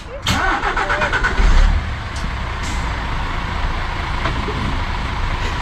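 Cars and a truck pulling away across a manually gated level crossing near York, engines revving loudly close by at first, then a steady rumble of passing traffic.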